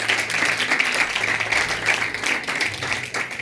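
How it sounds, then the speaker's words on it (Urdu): Congregation applauding during a Christmas church sermon, a short, steady burst of many hands clapping at moderate loudness. "زوردار تالیاں خدا کے لیے بجائیں."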